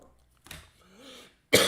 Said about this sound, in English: that's what my cough was like yesterday